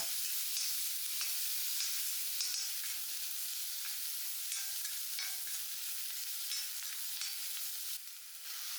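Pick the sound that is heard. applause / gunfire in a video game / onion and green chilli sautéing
onion and green chilli sautéing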